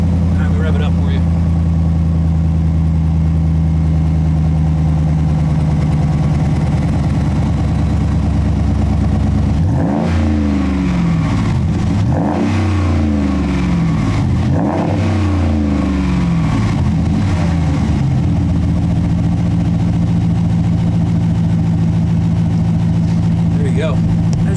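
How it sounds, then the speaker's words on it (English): A Ram truck fitted with a Flowmaster Flow FX muffler idles with a deep rumble, then revs up sharply three or four times before settling back to idle, loud and close. "Let me rev it up for you."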